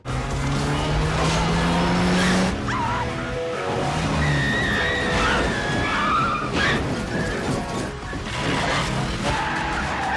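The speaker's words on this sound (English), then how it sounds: "So this is a great car chase. It's all real driving." Tyres skid and squeal during a car chase in the 007 film The Man with the Golden Gun, performed with real stunt driving. Loud, repeated screeches play over roaring engines and crashing noise, with a dog barking in places.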